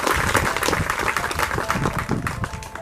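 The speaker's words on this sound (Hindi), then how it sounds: "मैं चाहता हूँ एक बार जोरदार तालियां उनके लिए होनी चाहिए।" Loud, dense audience applause fills the whole stretch, steady and sustained, with no speech over it.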